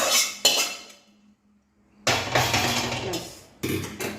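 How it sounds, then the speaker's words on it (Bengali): Metal pot and ladle clank sharply as squash mung dal is ladled into a bowl, several close knocks and scrapes separated by a quiet pause. "এবার বাটিতে ঢেলে নিই ডালটা"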